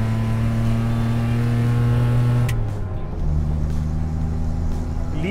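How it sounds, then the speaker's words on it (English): A Maruti 800 engine with a leaking exhaust idles with a rough, throaty rumble, then the pitch shifts down and settles into a steady, loud drone. "it is making a little bit more noise right now because the exhaust is leaking"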